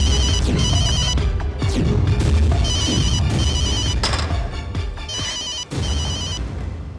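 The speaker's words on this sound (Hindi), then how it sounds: "आप अपना फोन क्यों नहीं उठा रहे?" A telephone rings loudly and insistently in repeated bursts with short gaps between them. A sharp bang cuts in briefly partway through, and no one speaks.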